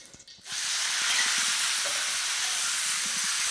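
Pork fat for Sichuan twice-cooked pork hits hot oil in a wok and bursts into a loud, sustained sizzle, with a steady hiss continuing after a quiet start.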